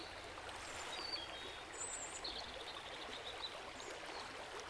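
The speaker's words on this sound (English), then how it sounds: "The water laps quietly against the shore" Lake water laps softly against the shore in a steady, quiet wash, with a few faint high chirps drifting above and no voices.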